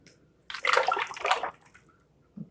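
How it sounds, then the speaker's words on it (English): Hemp oil soap batter poured into molds, giving a soft liquid pouring wash that swells for about a second, then a faint tail and a small knock near the end. "pour about that much in."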